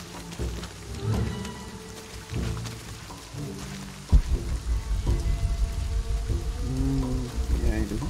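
Stormy weather in the video game Shadow of the Tomb Raider, with continuous rain hiss and low rumbling surges. A heavy thump and roll of thunder arrives about halfway through, followed by sustained rumbling under the downpour.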